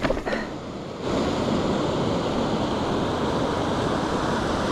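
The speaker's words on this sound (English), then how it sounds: "This river crossing was super sketchy, very deep and fast flowing." A deep, fast-flowing river rushes in a loud, continuous broadband roar close by at a bikepacking race crossing in the Ozarks, with wind buffeting the microphone at the start.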